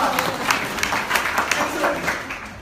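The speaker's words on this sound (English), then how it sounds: "Now clap if you want an exciting one." An audience at a business talk breaks into brief applause: a burst of scattered, moderately loud claps lasting a couple of seconds.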